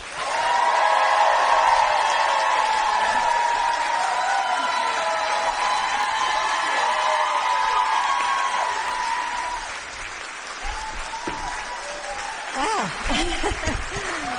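A large crowd at a Wisconsin political rally applauds and cheers loudly and continuously to welcome the First Lady. The ovation eases toward the end as a voice begins over it.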